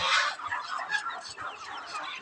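Native deshi chickens, roosters among them, cluck and chatter close by in a short busy burst of overlapping calls, with no talking.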